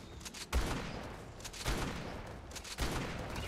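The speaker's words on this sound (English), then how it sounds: "that shotgun is doing nothing." Shotgun fire in ARK: Survival Evolved comes as three separate booming shots spaced about a second apart, each with a sharp attack and a decaying rumble, fairly faint overall.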